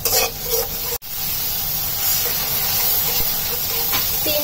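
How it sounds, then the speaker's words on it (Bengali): Ginger, garlic, onion paste with turmeric, salt and chili powder sizzles loudly and continuously in a pan after water is added, a steady close hiss with a brief break near the start. "পানি দিয়ে দিচ্ছি যেন মশলাটা পুড়ে না যায়।"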